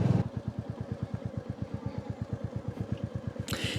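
A motorcycle engine chugs at a steady, rapid putter on a muddy mountain road in North Sikkim, close and even-paced, with a brief scrape near the end and no voices.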